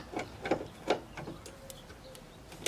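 A ratchet with a 13mm socket loosening a bolt on a Hummer grille guard: several close, crisp clicking strokes at a steady pace, then lighter ticks.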